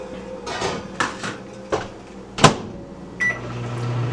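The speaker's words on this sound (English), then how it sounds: "I'm going to let this do in the microwave what it would do if it was on the stove boiling." A kitchen microwave oven starts up for brunch cooking: a few clunks and clatters, a short beep, then a low, steady running hum close by.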